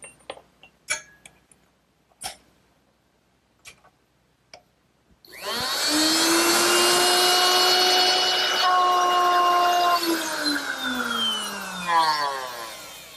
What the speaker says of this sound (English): now I can replace this straight cutter with the dovetail bit, and that should make it a lot easier to cut